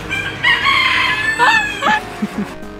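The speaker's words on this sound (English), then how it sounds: "Rooster. Ondori." A rooster at Ueno Zoo in Tokyo crows once, loud and close, with a long drawn-out call over faint background murmur.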